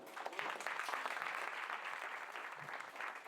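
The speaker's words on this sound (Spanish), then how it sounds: "den un fuerte aplauso" Applause from a crowd at a festive community celebration, a continuous wash of clapping and crowd noise heard at moderate distance for a few seconds.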